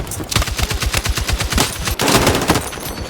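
Rapid bursts of M60 machine gun fire in a video game, loud and close, a steady rattling stream of shots with a brief pause before another burst.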